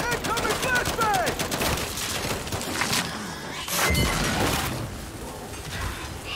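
Gears 5 Horde combat, with flashbang grenade blasts and rapid bursts of gunfire over mechanical clatter and game effects, loud and close, while a voice shouts briefly during the firefight.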